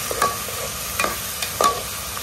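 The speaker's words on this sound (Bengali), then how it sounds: "প্রথমে এই ডালটাকে আমি বুনে নিব স্পাইস থেকে। এই যে ডালটা দিয়ে দিলাম" Lentils (dal) being stirred and fried in a pan with spices for bhuna khichuri, three or four distinct scraping stirs over a steady low sizzle, close by with no talking.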